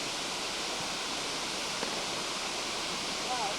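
A tall waterfall in Costa Rica roars as a dense, steady rush of falling water heard up close, with no break in the continuous hiss.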